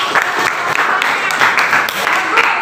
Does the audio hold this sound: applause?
yes